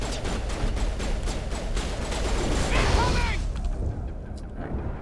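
Grenade blasts and gunfire in the Mass Effect video game: a dense, loud barrage of rapid shots and explosions throughout, with a swelling burst near the middle before it thins toward the end.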